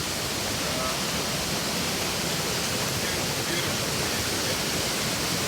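A powerful waterfall on the Thiba River in Kirinyaga roars loudly and steadily from close by, pouring over rock in a dense, unbroken rush, with a brief spoken word over it.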